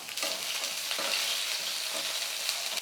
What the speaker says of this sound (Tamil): இப்போ கடுகுலாம் நல்லா பொரிஞ்சிடுச்சு வெங்காயம் சேர்த்துக்கிறேன்